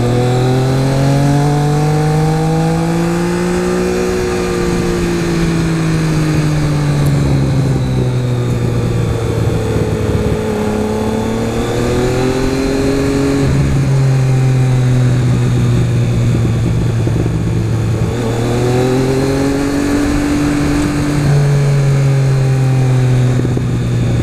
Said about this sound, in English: Oh man, the overrun sounds awesome. The over rev.